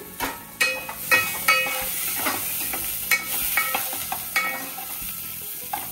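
Goan squid ambot tik cooking in a pan over a medium flame, with steady close sizzling and hissing broken by sharp metallic scrapes and clinks of stirring.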